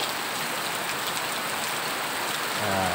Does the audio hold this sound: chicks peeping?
no